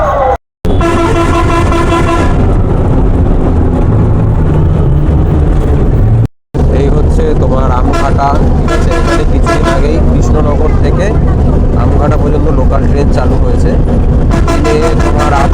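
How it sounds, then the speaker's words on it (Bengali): A bus drives along a highway with a steady, loud engine and road roar and occasional horn toots, while people talk over it. "এখন এই হাই রোডে বাস রয়েছে"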